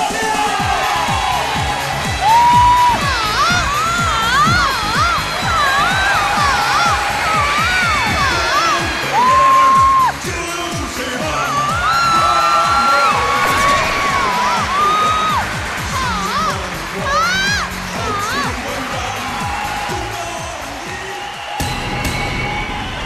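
A studio audience at a dating show cheers and whoops, with crowd noise running steadily throughout and music playing underneath.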